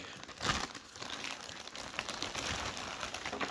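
Faint plastic crinkling and rustling close by, soft and irregular, with a quiet hiss in the background.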